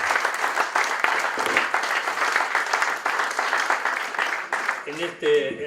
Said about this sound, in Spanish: Simplemente un aplauso nuevamente